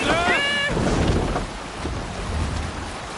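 A sailing ship in Assassin's Creed Valhalla pushes through open water under steady wind, a broad continuous rush of air and sea, with a brief shouted voice at the start.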